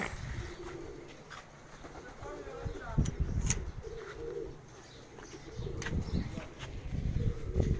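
Pigeons cooing close by outdoors, soft throaty coos mixed with sharp chirps and a few wing flaps, while people talk over them.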